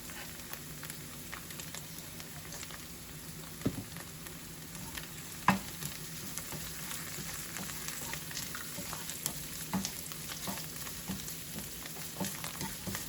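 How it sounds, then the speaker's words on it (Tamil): Vegetables and a pinch of asafoetida sauté in a pan for a sundal with dry green peas, giving a steady close sizzle and frying crackle, with occasional soft stirring knocks. "இதெல்லாம் நல்லா வதங்கிடுச்சு."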